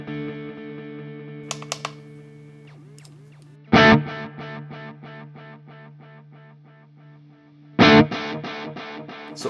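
An electric guitar played through a Strymon Volante tape delay with the rec level raised: two loud, gritty strummed chords each trail off into a train of evenly spaced, fading repeats, after sustained tones and a few light plucks.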